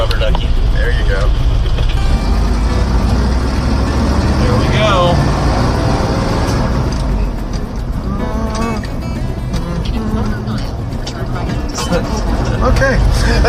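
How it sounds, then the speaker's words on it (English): A 4-wheel drive crew cab tow truck with a 4-speed drives along, its loud steady engine drone and road rumble filling the cab while people talk over it. "We have a tow truck. I know, I feel pretty good right now. A 4-wheel drive crew cab tow truck."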